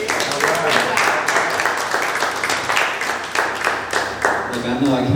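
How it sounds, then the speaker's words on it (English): Audience applause at a live radio podcast event, a steady wash of many hands clapping throughout, with a voice speaking over it. "Can we get a round of applause"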